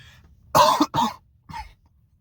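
A voice imitates a cough: two quick, rough bursts followed by a softer third one, close and clear.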